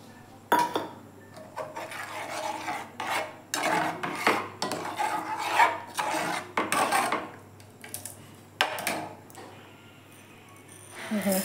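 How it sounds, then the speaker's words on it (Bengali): Powdered milk being stirred into chhena payesh in a pot, a spoon scraping and clinking against the metal in a run of repeated close strokes with short pauses between them. "এরপর আমি আর একটু গুঁড়ো দুধ দিয়ে দিলাম গুলে।"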